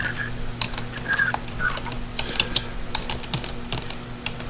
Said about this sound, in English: I got to type in the chat room.